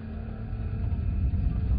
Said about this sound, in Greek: Πολλά φορτηγά περνάνε σήμερα.